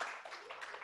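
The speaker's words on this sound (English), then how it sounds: "Let's give Catherine a round of applause" An audience at an interactive presentation gives a short burst of applause, a brief, fairly faint patter of clapping lasting under a second.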